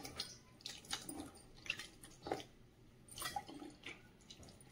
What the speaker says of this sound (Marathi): आता हे डब्यातले साबुदाणे मस्तपैकी मी पाण्यामध्ये टाकलेले आहे